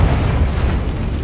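A Confringo blasting spell explodes in Hogwarts Legacy: a dense, booming low rumble that stays loud and steady for just over a second.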